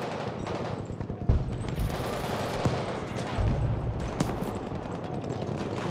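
Dense gunfire from a Battlefield V multiplayer breakthrough match on the Aerodrome map, with rapid overlapping shots, a few heavier thumps, and constant battlefield din.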